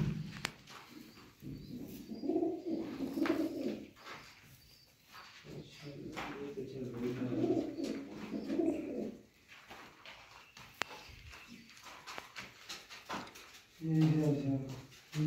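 Old pigeons of a Mian Nazir bloodline coo in low, rolling bursts close by, with quiet stretches and faint shuffling between calls and louder cooing near the end.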